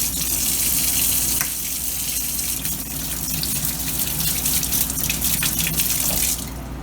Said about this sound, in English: I'm going to fill up my pot with water to boil for my noodles